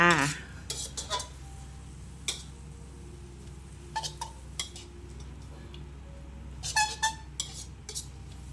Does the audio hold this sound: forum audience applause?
no